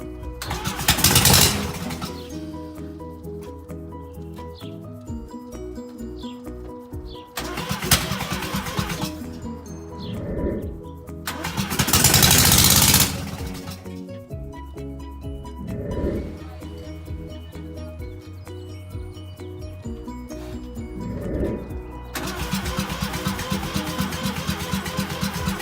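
A Mazda RX-7 rotary engine cranking with ether, heard as repeated bursts of starter churning with loud roaring attempts between steady idle-like drone, close by, with no talking.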